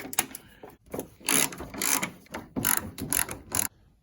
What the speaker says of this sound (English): I'm using 10mm socket